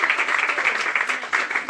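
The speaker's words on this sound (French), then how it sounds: "vous pouvez les applaudir encore plus fort que ça" Dense, sustained applause from an audience at a hypnosis show, many hands clapping together in a full, even wash with small swells, loud and close.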